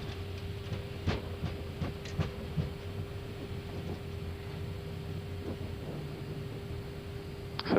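Airbus A320neo engines run in reverse thrust after landing on Fuerteventura runway 01, a steady, muffled rumbling roar heard from inside the cockpit with light rattling clicks and knocks throughout.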